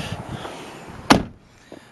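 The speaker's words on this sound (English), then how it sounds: "let me close the door," A single solid thump of a 1996 Toyota Camry door shutting nearby, with faint shuffling before it and quiet afterward.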